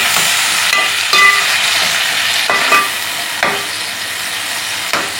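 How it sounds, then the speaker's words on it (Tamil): Drumstick leaves sauté in a hot pan with a steady sizzle, punctuated by several sharp scrapes and clinks of a spatula stirring at intervals. "இது அப்படியே வதங்கிக்கிட்டு இருக்கு"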